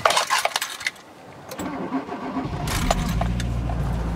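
A car cold-starting after sitting all day, fitted with Pulstar pulse plugs and running on RE85 fuel: a few light clicks and rattles, then the engine cranks and catches, settling into a steady, loud idle rumble.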